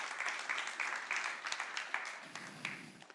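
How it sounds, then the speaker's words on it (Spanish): Applause during a Spanish-language church worship service, moderately loud clapping from a congregation with rhythmic accents, shifting near the end as a low murmur of voices rises beneath it. "Dale el aplauso al Señor."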